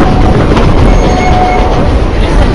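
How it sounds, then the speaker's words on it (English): The Durango and Silverton railroad train passes across the way during a railfest, a loud continuous rumble of rolling wheels and cars with steady clatter throughout. "There's the train on the other side."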